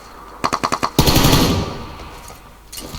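Rapid burst of about six gunshots from a PUBG Lite match, followed by a louder blast and a decaying rumble, then another shot near the end; no talking.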